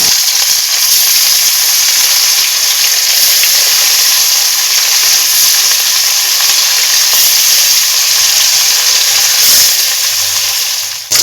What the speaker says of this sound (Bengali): তেল গরম হয়ে গেলে তেলের মধ্যে আমি মাছগুলো দিয়ে দেব